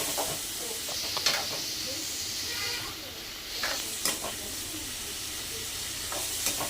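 A kandan kaya (yam) fry mixture with turmeric hisses and sizzles in a pan while it is stirred, with soft scraping strokes recurring over the steady frying noise.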